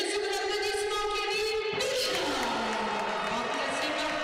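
A basketball arena crowd claps and cheers steadily in a reverberant hall, with a drawn-out tone under the noise and a shift in the crowd sound partway through.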